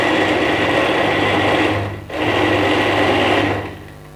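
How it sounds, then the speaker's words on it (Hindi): An electric juicer grinds falsa berries in a home kitchen, a loud steady motor whine running throughout with one brief dip in the middle before it resumes and fades slightly near the end. "व्यूअर्स अब ये मैं फालसों को ग्राइंड करती हूँ।"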